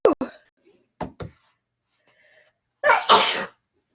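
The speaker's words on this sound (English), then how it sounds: "I'm going to sneeze" A single loud, close sneeze bursts out near the end, preceded by short breathy sounds and bits of speech from one person.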